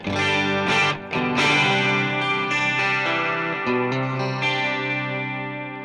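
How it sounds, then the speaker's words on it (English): Overdriven electric guitar through the AmpliTube iPad app plays a few strummed chords with a shimmering chorus effect, each ringing loud and sustained before the last one fades. "Seem to have a bit of a chorus on there."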